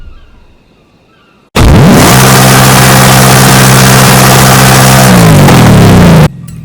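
A Ford Mustang with its exhaust removed bursts into a loud, raw engine roar that holds close and steady for nearly five seconds, the pitch sinking toward the end before cutting off abruptly. Quiet room sound comes before and after.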